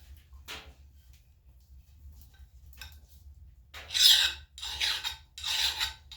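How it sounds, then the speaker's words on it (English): A hand file rasps across a dented axe blade, with a few faint scrapes followed by three loud, rhythmic strokes close to the listener. "Just kind of like to file the, not to a sharp point, but get all the divots and dents and things out of it."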